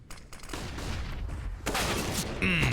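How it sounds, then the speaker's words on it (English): Counter-Strike: Global Offensive gunfire in a professional match on Mirage, a rapid burst of shots over steady game noise, fairly loud and close. "Config with a headshot."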